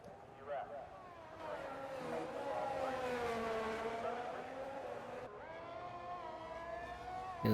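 An Aston Martin race car in a racing video game, its engine droning steadily with rising and falling revs as it runs a lap, fairly faint and continuous, with a brief louder burst at the end.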